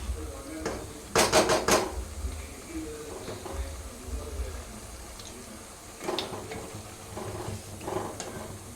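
Squid curry bubbles in a pan on a home stove. Quiet simmering is broken by short clinks and scrapes from stirring and from utensils against the pan.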